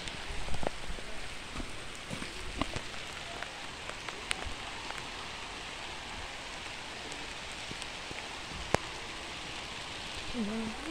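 Steady rain falls outdoors near a vegetable garden planted with string beans, a dense even patter on surfaces with occasional heavier drops.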